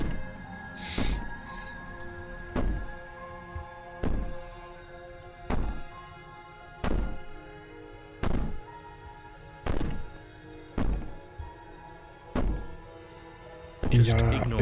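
Heavy, regular banging thuds against a door in the horror game Slay The Princess, about one blow every one to one and a half seconds, with a voice talking underneath and a brief wailing cry early on.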